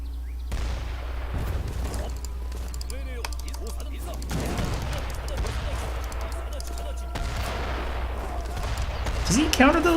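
Hand mortars firing in Age of Empires 3: repeated booming shots and crackling battle gunfire under a busy game soundscape, with a steady background hum throughout.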